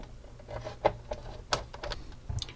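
Screws are driven into a panel of a T-800 Terminator model kit, giving a few sharp clicks and scraping twists spaced apart, close up and quiet against a soft room background.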